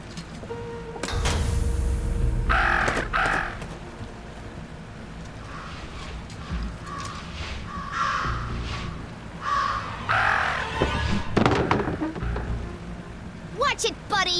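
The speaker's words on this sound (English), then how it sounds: "Talk about a murder of crows." Crows caw several times in the video game Detective Jenny Leclue, in loud harsh bursts against a rumbling ambient background, with a voice speaking between them.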